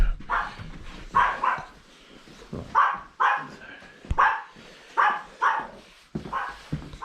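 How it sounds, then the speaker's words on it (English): Several dogs bark in repeated bursts, some yipping and whining between barks, fairly close and loud, with no talk over them. "We got barking dogs."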